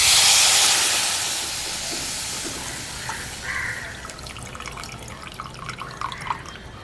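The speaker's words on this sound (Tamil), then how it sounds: "இனி நாங்கள் இருக்கிற 2ஆம் 3ஆம் பாலை விடுவோம்" Second and third coconut milk poured into a wedding-style Jaffna potato curry, a loud hissing splash at first that settles into soft bubbling and simmering.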